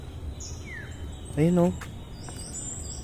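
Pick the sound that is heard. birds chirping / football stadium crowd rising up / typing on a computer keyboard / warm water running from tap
birds chirping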